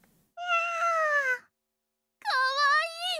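A stray cat in a visual novel video game gives two clear, close meows: a level drawn-out one, a short pause, then a second that rises and falls.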